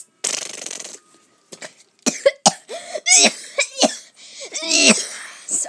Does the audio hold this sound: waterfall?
no